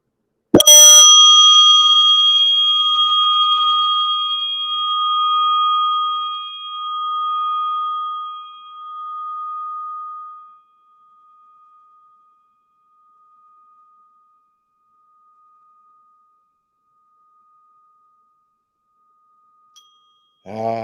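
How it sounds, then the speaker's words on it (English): A single bell strike rings out clearly, then a long pure tone slowly fades and pulses over about ten seconds into near silence. "rest your attention lovingly and gently on the sound of this bell"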